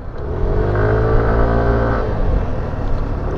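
A Yamaha XMax scooter engine with a 125cc sound revs steadily up close, its buzzy drone rising and holding without any voices.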